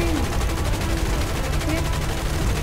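Continuous rapid gunfire from a War Thunder battle, a dense sustained rattle of shots running without pause, loud and close, with voice chatter faintly mixed in.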